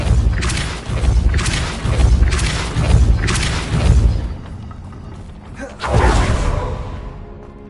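Depulso spell effects in Hogwarts Legacy land as a run of four heavy whooshing booms in quick rhythm, then a pause and one more deep surge.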